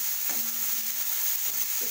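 Garlic and onion paste frying in hot oil for a restaurant-style mixed vegetable dish, a steady close sizzle with an occasional stir of the pan.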